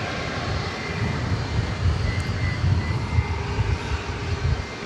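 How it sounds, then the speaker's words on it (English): A Boeing 757-200 airliner at DFW Airport gives off a continuous, broad jet engine roar with a rumbling low end. The sound holds steady throughout, with no voices. "Beautiful 757-200."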